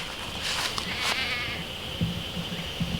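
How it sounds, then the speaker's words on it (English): A steady shrill insect buzz of cicadas fills the background, with a few low croaks from frogs popping up near the end. "You can hear the frogs and the whatever those bugs are, locusts or whatever, cicadas, making their noise"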